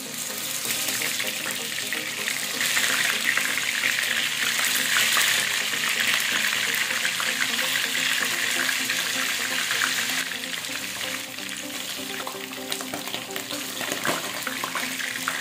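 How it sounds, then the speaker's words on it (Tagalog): Salmon fries in hot cooking oil, a continuous bright sizzle and crackle that stays loud and steady with small bursts of popping, heard alone. "Kung mainit na, papry natin itong ating salmon"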